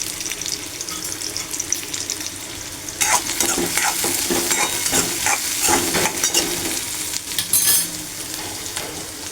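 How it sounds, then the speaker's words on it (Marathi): Onion and chili frying in oil in a pan for a vegetable dish, giving a loud, steady sizzle throughout with scraping stirs and clinks partway through, close up and with no talk. "आणि त्याच्यात कांदा टाकते कांदा मिरची टाकते"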